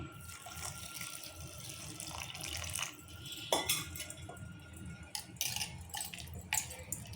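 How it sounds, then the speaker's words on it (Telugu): Water poured while making chutney, a close splashing trickle into a vessel with small drips and a few clinks of utensils. "వాటర్ పోసుకుందాము"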